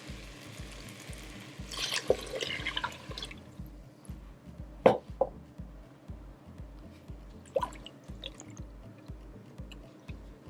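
Broth for plant-based Mexican rice is poured into a rice cooker, giving a brief splashing pour and scattered drips, fairly faint over a steady, softly pulsing background.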